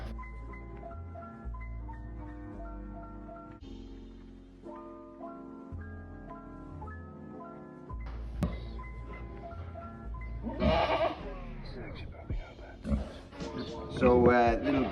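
A newborn kid goat bleats in a few short, wavering cries near the end, over steady background music and a talking voice.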